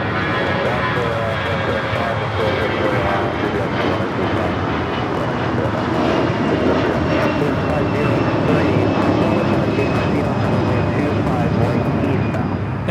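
An Air Canada Airbus A320 takes off at LAX, its jet engines making a steady, loud broadband roar that fills the whole stretch with a slowly shifting whine, and no voices are heard.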